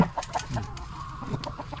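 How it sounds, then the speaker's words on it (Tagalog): Chickens in a backyard coop give a few soft, quick clucks and short calls. The birds sound close but quiet, and no one speaks. "Para makita niyo yung mga manok ko mga idol"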